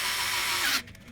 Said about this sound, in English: Now with the pilot drill ready, it will center itself in the little dimple that was from the oversized bit and then run it down to the depth of the screw